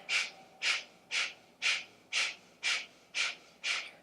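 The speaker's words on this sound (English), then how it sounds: "Coming into a quick breath of fire. So sharp exhales out your nose as you drop your belly in" Breath of fire in a yoga practice: eight sharp, forceful nasal exhales in a steady rhythm, roughly two per second, close to the microphone with quiet gaps between, no talking.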